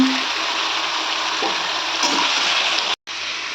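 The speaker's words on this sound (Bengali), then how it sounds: "এই বাটিটা কিন্তু আমি একটু ধুয়ে অল্প একটু জল দিয়ে দিচ্ছি" Water is poured from a rinsed bowl into a cooking pan of yogurt chicken and fried onions, a steady pouring and sizzling wash that cuts off abruptly near the end.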